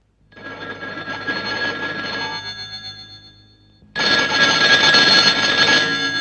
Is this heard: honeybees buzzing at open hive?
no